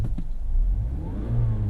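A 2016 Mazda CX-5 AWD with a 2.5-liter SkyActiv engine accelerates, its low engine note rising steadily in pitch over a short stretch.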